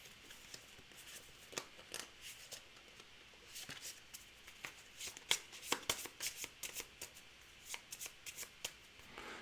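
Cards from the NATO Air Commander board game being shuffled by hand, a run of quick riffling and flicking bursts, close and fairly soft, with no voices.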